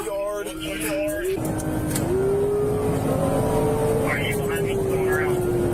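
A car engine revs high and whines steadily as it drifts around corners during a police pursuit, loud and close, with people talking over it and a siren-like tone.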